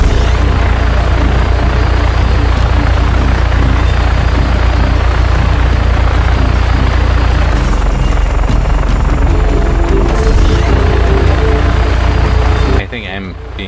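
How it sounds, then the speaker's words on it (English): A maneuverable helicopter in the video game Just Cause 3 roars continuously with a loud, steady rotor drone and engine buzz, shifting slightly in tone midway before cutting off abruptly near the end. "It is the best helicopter in the game."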